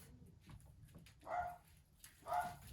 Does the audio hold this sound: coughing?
no